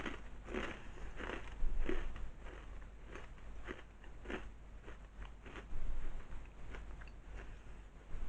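Crunchy Italian hard cheese snack bitten and chewed close to the mic, a series of crisp crunches in an irregular rhythm, some bites sharper and louder than others.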